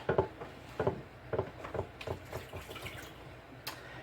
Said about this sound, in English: I'm going to put about 3 quarts of water in here.